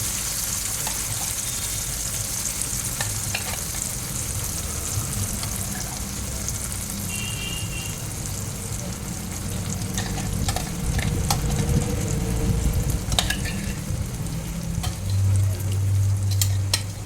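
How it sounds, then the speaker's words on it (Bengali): Banana paste fries in oil in a wok, making a continuous sizzle broken by scraping stirs and occasional clinks, growing busier and louder toward the end, with a few dull knocks near the finish and no speech. "এবারে কলা পেস্টটা দিয়ে দেবো।"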